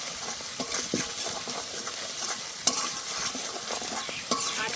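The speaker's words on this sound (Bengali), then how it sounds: "কাঁচা লঙ্কা রসুনটা খুব সুন্দর করে ভেজে নিয়েছি।" Green chilli and garlic sizzle with cumin powder in a pan for a Bengali lau chingri dish, a steady crackling fry broken up by scrapes and clinks of a spatula stirring.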